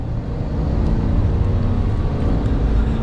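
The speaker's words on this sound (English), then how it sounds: "we'll give it another acceleration here as we go around this right turn" A 2023 GMC Sierra 1500 AT4X pickup truck accelerating mildly through a right turn, a steady low engine drone heard from inside the cab, moderately loud with no talk.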